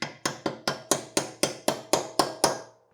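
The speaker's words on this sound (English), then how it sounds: "Use a brass hammer to tap the socket on." A brass hammer taps a 5/8-inch black impact socket onto a fitting, ten sharp metallic strikes at an even pace, each ringing briefly before fading.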